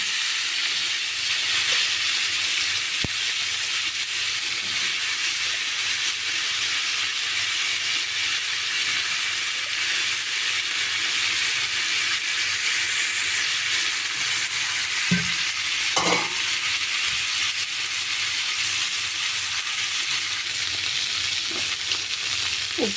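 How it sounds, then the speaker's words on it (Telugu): Brinjal pieces fry in a pan with dried fish, giving a loud, steady sizzle that continues throughout, with occasional soft clinks and scrapes of stirring. "చేపలు వేగిపోయింది కదండి, అట్లా ఎర్రగా వేగింది కదా. ఇప్పుడు వంకాయలు వేసేసుకున్నాం."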